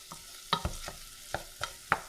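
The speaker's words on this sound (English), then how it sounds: "Probably give it a couple more minutes just to saute." Garlic and onions being stirred in a pan over medium heat, heard as a handful of sharp scraping clacks of a utensil spaced irregularly over a faint, low sizzle.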